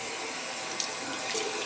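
Water runs steadily from a sink tap for a quick wash after a shave, a constant close hiss and splash with no pauses and no talking.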